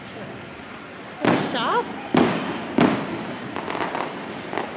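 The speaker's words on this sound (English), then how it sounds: "And then there's fireworks going on over at Epcot that you can see here." Fireworks bursting over Epcot at Walt Disney World: several sharp booms and crackling pops spread across a few seconds, some way off, heard beneath people chatting nearby.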